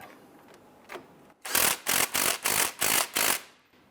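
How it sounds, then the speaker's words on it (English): A castle nut on a 1999-2004 Jeep Grand Cherokee front outer tie rod is snugged down with an 18mm socket, giving six quick, loud, evenly spaced ratcheting bursts close by after a few faint clicks. "Let's go ahead and snug the castle nut down"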